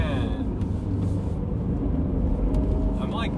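Cadillac Blackwing, a big heavy car, driving with a steady low engine rumble and road noise throughout, people talking over it inside the cabin.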